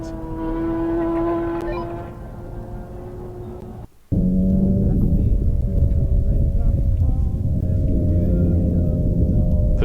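A motorcycle at very high speed on a public road, near 189 mph while chasing police: a loud, close engine drone with strong steady tones under wind rumble, briefly dropping out around a gear change before roaring back.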